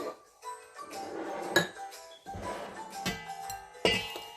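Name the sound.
mixing wet ingredients with sugar in a bowl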